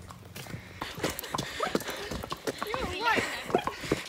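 A young pony's hooves clip-clop in quick, irregular steps while people talk over the sound, and a faint whinny-like call is briefly audible near the end.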